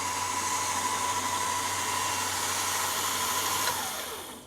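An electric winch fitted to a Chevrolet Silverado pulls its line back in with a steady, loud motor whine that drops in pitch and winds down at the end, with no voices.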